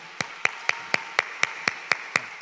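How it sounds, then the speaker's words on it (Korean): A church revival audience claps in unison to welcome a guest pastor, nine crisp, evenly spaced claps in a steady rhythm, close and distinct. "강사님을 박수로 영접하겠습니다"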